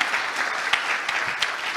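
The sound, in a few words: audience applause for a finalist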